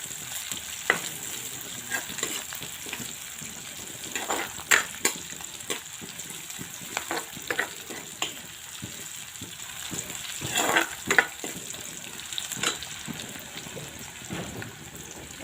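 Spices and chopped ingredients sizzle in a hot pan while a utensil scrapes and stirs at intervals, a steady close frying hiss broken by irregular clinks and scrapes, with no talk.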